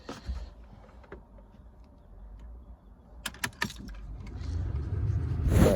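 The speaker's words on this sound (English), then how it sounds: "I'm going to turn the ignition, but I can't do that with one hand" Ignition key turned in a Vauxhall Zafira 1.6, with a few close clicks and key jangles before the engine note rises near the end.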